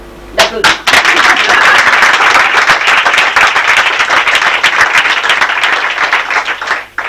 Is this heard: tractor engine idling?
no